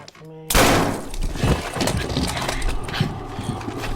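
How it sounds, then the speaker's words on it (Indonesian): A sharp gunshot in a film scene as a partner is shot by a suspect, bursting in loudly after a brief quiet tone and followed by busy, noisy commotion, with speech mixed in. "si rekan akhirnya sewat ditembak oleh si tersangka, di mana Lee"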